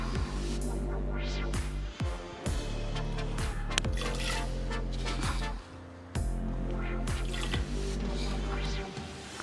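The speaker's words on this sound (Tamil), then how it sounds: "தண்ணி கொதிச்சிட்ருக்கு." Water bubbles in a pot on the stove while ven pongal is made with rice, moong dal and rock salt, giving a steady close simmer with drips, pops and gurgles.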